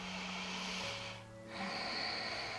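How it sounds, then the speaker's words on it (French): Slow yoga breath during a morning routine, a soft nasal exhale followed by a brief pause and a fresh inhale, faint and close. "Fais 2 respirations encore."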